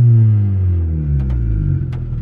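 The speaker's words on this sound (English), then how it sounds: "it revs up smoothly throughout the RPM range" A turbocharged Honda D16Y7 engine revs smoothly up from idle. It is loud and close, with a steady low drone that rises in pitch, and brief higher bursts near the end.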